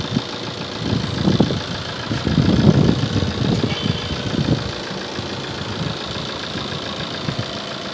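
TATA car engine idles steadily up close, a continuous low rumble with uneven knocking pulses that swell briefly before settling into a smoother hum, with no talk over it.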